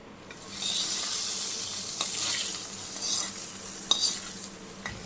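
A hot tempering poured into boiling coriander rasam gives a steady, close sizzle and hiss, with a few faint clinks of a spoon or pan around it.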